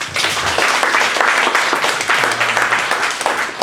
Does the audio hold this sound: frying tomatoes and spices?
no